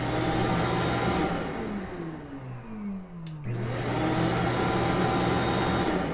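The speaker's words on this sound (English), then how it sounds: "That was the wrong vacuum. That's the vacuum hooked up to my scroll saw." A 16-gallon Ridgid shop vacuum hooked up to a scroll saw runs with a loud, steady whine, briefly dips in pitch as the airflow changes, then returns to full roar.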